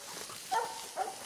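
A coon hunting dog barks twice in short, moderately close yelps over faint outdoor background noise.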